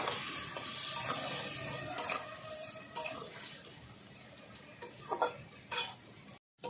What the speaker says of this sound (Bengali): দিয়ে দেবো হলুদ গুঁড়ো লবণ ভালো করে কষিয়ে নেব একসঙ্গে